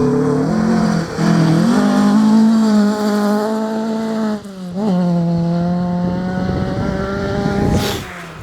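A club-spec rally car at the Riponian Stages rally passes close and loud, its engine note rising and falling with gear changes over about eight seconds, a brief lift mid-run, and a rasping surge near the end.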